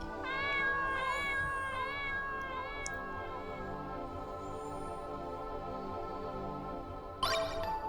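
Cats in a video game meow in a long, drawn-out, overlapping chorus of tonal cries, loud and close, with a brief bright chime near the end and no talking.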